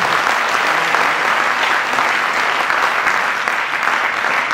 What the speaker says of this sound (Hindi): आपकी प्यार भरी तालियों का उपहार भी इनका पहुंचना चाहिए।